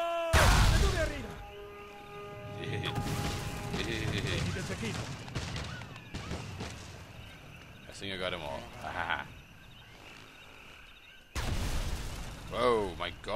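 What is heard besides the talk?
grenade explosions in video game Sniper Elite 3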